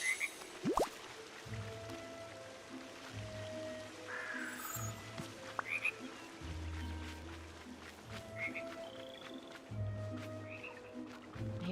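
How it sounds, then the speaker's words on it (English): Frogs croak in deep, repeated pulsing bursts in the Disney Dreamlight Valley game, set against a quiet ambient backdrop with scattered chirps and small clicks. "I don't know if that's ambient sound or is that an actual frog?"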